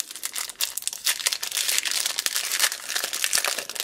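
Plastic packaging around a set of rubber words crinkles and crackles continuously as it is handled up close, in loud dense bursts with no talking.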